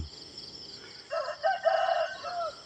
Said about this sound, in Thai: ได้ยินเสียงไก่ร้องส่งบอกสัญญาณ